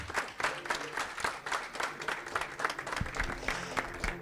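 The audience at the Mister Universel France 2022 live show applauds eliminated contestants, with dense clapping and distinct individual claps over a booming hall, steady throughout.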